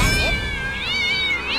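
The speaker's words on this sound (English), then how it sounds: "Fucking annoying cat." A cat in South Park: The Stick of Truth lets out a single loud, drawn-out meow with a wavering, rising and falling pitch, close and clear.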